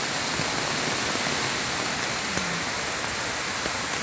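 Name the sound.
big river flowing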